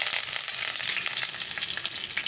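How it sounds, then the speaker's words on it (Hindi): Curry leaves, whole red chilies and cumin sizzle and crackle steadily in hot oil, a loud close frying hiss throughout with no talking. "अब इसमें हम कड़ी पत्ता, साबित लाल मिर्च और ज़ीरा डालेंगे। थोड़ा सा ये हम तड़का लेंगे"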